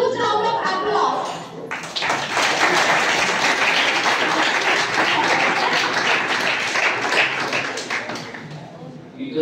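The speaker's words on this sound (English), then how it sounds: "Please welcome with a huge round of applause." A college auditorium audience at a Teacher's Day celebration claps for the principal, a loud, dense burst of applause that swells after a couple of seconds and keeps going steadily to the end.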